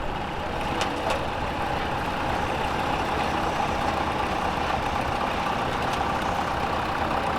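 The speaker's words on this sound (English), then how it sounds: "Here's Rod Ahrenstorff on a 1959 Case 801B." A 1959 Case 801B tractor from a sugar beet farm runs at a steady idle at an antique steam and gas threshing show, a continuous low engine drone with faint background noise.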